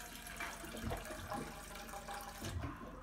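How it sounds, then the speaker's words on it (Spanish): Tap water runs steadily into a vessel in a kitchen while fish tacos and chile salsa are prepared, a soft continuous splashing flow heard at low level with no talk. "vamos a poner agua."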